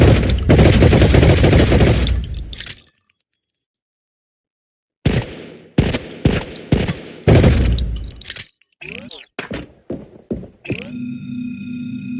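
Gunfire in the video game Sweet Surrender: a long loud automatic burst, a pause of silence, then a run of shorter sharp bursts and shots, with electronic tones at the end.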